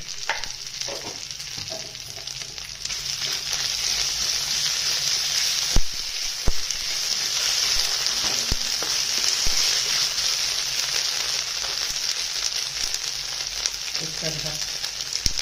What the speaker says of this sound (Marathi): अद्रक लसूणची पेस्ट टाकते।